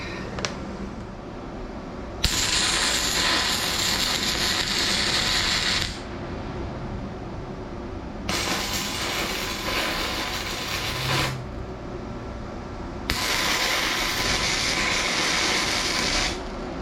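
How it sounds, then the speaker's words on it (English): Breaker bar cranking on a broken engine head bolt, three sustained bursts of harsh broadband ratcheting and metal strain, loud and close, separated by quieter pauses with no talk. "we got a breaker bar ready to go"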